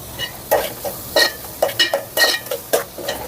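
Food frying in a pan with turmeric and salt, a soft sizzle under repeated scraping strokes of a spoon against the pan, close, in an uneven rhythm of about ten stirs, with no voices.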